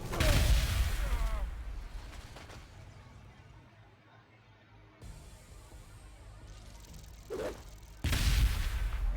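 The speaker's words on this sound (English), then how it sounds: "Grenades." Several booming grenade blasts from a Space Marines unit in Warhammer 40,000: Gladius – Relics of War, loud bursts at the start and end with a quieter rumbling stretch between them.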